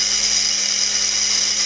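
A drill bores a 3 mm hole into an 8 mm ruby ball, producing a steady high-pitched whining hiss with a constant low hum, continuous and close.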